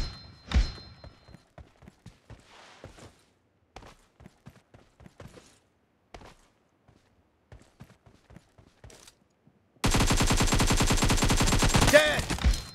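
PUBG Mobile video game gunfire: scattered sharp shots early, then a loud sustained rapid burst of automatic fire near the end, close and clear, with little talk.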